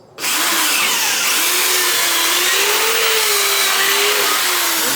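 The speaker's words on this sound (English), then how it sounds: "I'm going to come in through the neck pocket, drill through here" A power drill bores a 1/4 inch hole through a solid guitar body, entering at the neck pocket. The whine starts abruptly and holds close and loud, with the pitch wavering slightly as it cuts.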